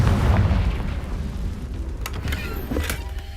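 A Confringo blasting spell explodes in Hogwarts Legacy, a heavy booming burst that opens loud and low, then fades into rumbling game ambience with a few brighter crackling pops near the end.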